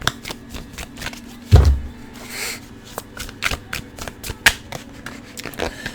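A tarot deck is shuffled by hand at close range, a rapid run of crisp card riffles and taps in an irregular rhythm, with one soft thump near the start and no talking.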